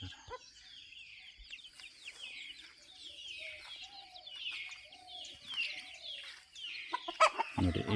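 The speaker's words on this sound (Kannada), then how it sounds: "ಈ ಹುಂಜ ಇದೆ ನೋಡಿ, ತಿನ್ನಿಸ್ತಿದೆ ನೋಡಿ" A native rooster makes repeated soft clucks and short chirping calls while feeding its chicks at close range, with faint peeping and scratching around it and a louder thump at the end.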